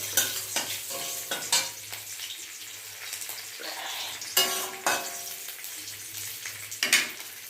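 Water lily stems with green chillies stir-fried in a pan, repeated scraping stirs and clattering spatula hits over a low sizzle, loud and close, with no talk.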